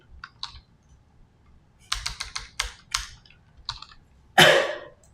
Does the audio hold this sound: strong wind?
no